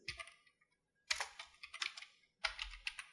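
Typing on a computer keyboard while entering student marks into an Excel marksheet: three quick bursts of dense key clicks separated by short pauses, close and fairly quiet, with no talking.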